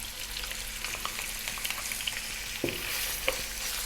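Pieces of lamb and onion fry in a hot pan over just above medium heat for a mutton curry, with a steady close sizzle broken by a few scraping stirs and light clatters, and no talking.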